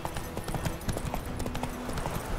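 A horse's hooves clip-clop at a steady trot in The Witcher 3: Wild Hunt, sounding close and rhythmic over faint game ambience.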